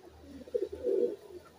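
A single pigeon gives a short, soft coo, two quick low pulses and then a longer rolling note, heard close by in a quiet space.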